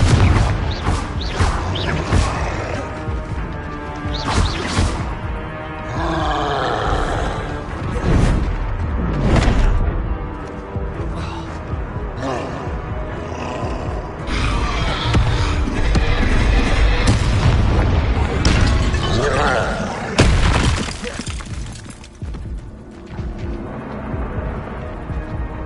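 Blasting-spell explosions from Hogwarts Legacy, the wizarding video game, go off as loud, repeated booms and crashes over a dense rumbling backdrop of battle effects, with brief quieter gaps between bursts.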